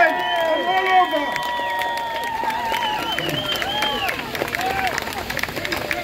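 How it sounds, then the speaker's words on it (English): Street crowd at a Palestine rally in London, applauding and cheering steadily; dense clapping and shouting voices fill the scene, with crowd chatter mixed through. "Join me in applauding the students all over the world, in Colombia, and Harvard, and Yale, and all over."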